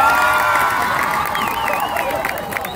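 A loud street-comedy audience at Chabuca Granda roars and cheers with some clapping underneath, shrill shouts and whoops riding over a thick steady crowd din throughout.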